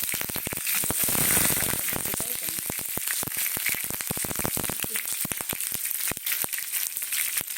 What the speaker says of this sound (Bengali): এবারে কালো জিরে দিলাম, এবারে পেঁয়াজ দিলাম।